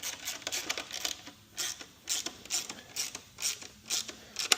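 Clicking of a 10 mm socket ratchet tightening bolts on an AXP skid pan fitted to a 2026 KTM 690 Enduro, heard as close, repeated bursts of rapid pawl clicks in a steady back-and-forth rhythm with no talking.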